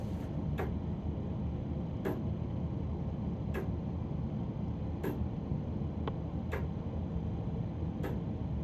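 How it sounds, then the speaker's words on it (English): A mechanical town clock more than 100 years old ticks in its tower room in Madison, NC, with faint, sharp ticks about every one and a half seconds over a steady background hum. "It's very nostalgic to hear this ticking."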